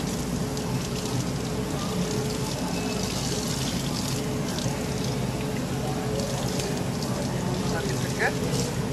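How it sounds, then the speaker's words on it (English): Water poured to soak a wrapped item, a continuous splashing, rain-like pour that runs steadily throughout, with a person talking over it. "soak it with water"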